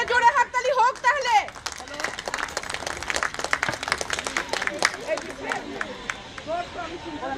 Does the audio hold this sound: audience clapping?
yes